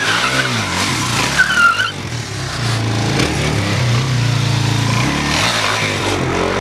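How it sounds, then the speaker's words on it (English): Motorcycle engine held at raised revs through a drift, a steady loud roar with tire skid noise across the whole stretch and a brief rising squeal near the start. "you can hear that, you know, the engine's turned up a little bit more."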